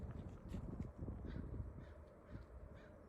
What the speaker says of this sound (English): The crows confirm.